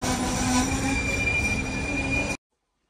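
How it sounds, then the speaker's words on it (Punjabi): A train arrives at a station in Portugal, with a steady loud rumble and a high, sustained wheel squeal before it stops abruptly. "ਲਓ ਜੀ ਦੇਖੋ ਜੀ ਆ ਗਈ ਟ੍ਰੇਨ"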